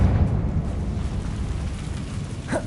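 Confringo fire-blast spell explosion in Hogwarts Legacy, a rumbling, crackling eruption that carries on loudly for a few seconds before ending in a short whooshing flare.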